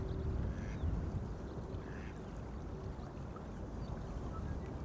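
A duck quacks at Amsterdam Schiphol Airport on a windy day, giving a few faint, short calls over steady, loud wind and background rumble.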